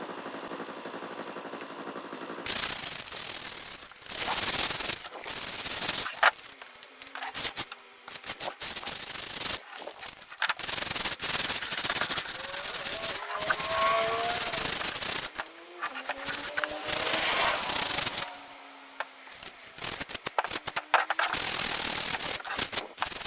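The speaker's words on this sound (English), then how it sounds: "taking sandpaper to it and giving it with a high grit, and I will be sanding it over" Hand sanding a cosplay Klingon mek'leth prop with fine sandpaper: close, gritty rubbing strokes repeat in an uneven rhythm, each pass a broad rasping hiss, with brief pauses between.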